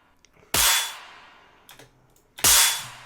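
Gunshot samples in a track breakdown: two loud, sharp shots each with a short decaying tail, about two seconds apart, with a faint hit between them.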